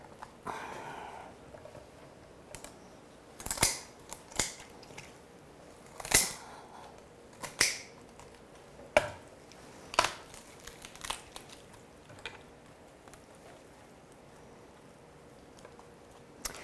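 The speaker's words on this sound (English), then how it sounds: "You want to try to cut right in between the joints there, right through the cartilage." A knife cuts through cooked turkey joints and cartilage during carving, giving sparse crunching and snapping cracks spaced a second or two apart over a quiet background.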